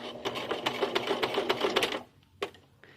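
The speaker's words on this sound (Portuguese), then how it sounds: "vou passar uma costurinha em diagonal aqui em direção ao cantinho do saquinho" A sewing machine runs a fast, rhythmic stitch diagonally across a small fabric pouch for a travel or maternity bag organizer, loud and close for about two seconds, then stops, followed by a couple of faint clicks.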